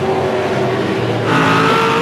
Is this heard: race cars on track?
yes